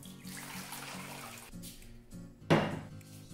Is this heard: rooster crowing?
no